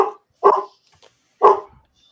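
An excited puppy barks indoors, two loud close yaps about a second apart with a faint whimper between them.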